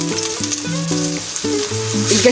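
Half a kilo of ground beef sizzles in a pan with sautéed garlic and onion, a steady frying hiss beneath a melodic tune playing in the background.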